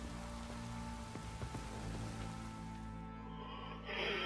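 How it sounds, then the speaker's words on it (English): Rain falls steadily in The Witcher 3, a soft, constant hiss of drops spread evenly across the scene, with the game's low ambient tones and music underneath, swelling slightly in the final second. "Looks like rain."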